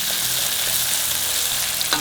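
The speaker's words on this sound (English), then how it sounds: "you fry the ginger garlic paste in there for at least a couple of minutes" Ginger garlic paste frying in a pan on a medium flame, a dense, steady, loud sizzle close by with light stirring scrapes and no talking.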